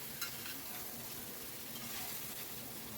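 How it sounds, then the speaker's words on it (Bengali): Ingredients stirred in a pan over a medium-high gas flame, a faint continuous sizzle with soft scraping strokes, quiet and steady. "গ্যাসের ফ্লেমটা মিডিয়াম টু হাইতে রেখেছি আর সব কিছু খুব ভালো করে মিশিয়ে নিচ্ছি"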